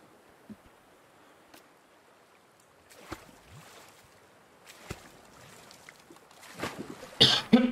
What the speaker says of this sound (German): Ja, ein bisschen Husten habe ich ja noch